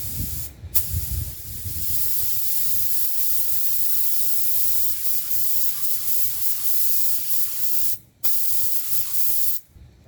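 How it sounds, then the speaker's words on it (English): An Iwata Bellaria airbrush sprays candy coat paint for a car spoiler at roughly 20 PSI, giving a steady, close hiss that runs nearly the whole time and breaks off briefly twice. "now we're going to be doing the candy coat with the Iwata Bellaria"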